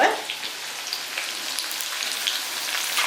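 Curry leaves and green chillies fry in hot oil for Onam lemon pickle, giving a steady, close crackling sizzle with scattered pops throughout.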